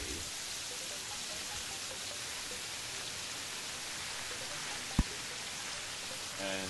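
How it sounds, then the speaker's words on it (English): Rain falls in the video game Terraria, a steady, even hiss of rainfall filling the scene, with one brief faint click partway through. "See, now it's raining, you see."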